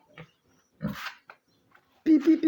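A boar on a pig farm in Liberia gives a few short, close grunts separated by pauses, ending in a louder, rhythmic run of nasal grunts.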